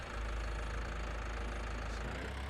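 Tractor engine idling steadily in Farming Simulator 19 on the Erlengrat alpine map, a constant low rumble with a broadband mechanical drone, loud and close with no voices over it.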